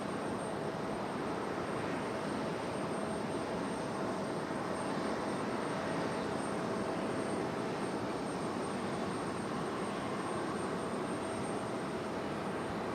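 An American Airlines Boeing 777 departs Raleigh-Durham International, its jet engines giving a steady, broad roar that holds evenly throughout with no voices over it.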